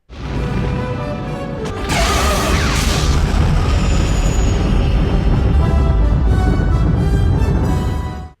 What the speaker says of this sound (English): the sound of the explosion itself is inaccurate